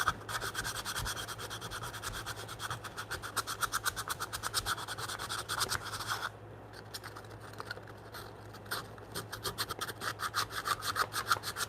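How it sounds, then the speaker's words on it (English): Steady rapid back-and-forth abrasive strokes, like wood being sanded by hand, close and continuous with a brief lighter pause partway through. "I'm gonna sand this a little bit"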